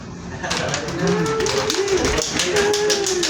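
A group of maritime trainees on a ship's bridge clapping during steering practice, brisk irregular handclaps over a steady background hum, with some voices mixed in.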